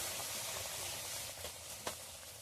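Ripe-banana malpua fry in hot oil, giving a soft, steady bubbling hiss that stays faint and even, with one brief crackle near the end.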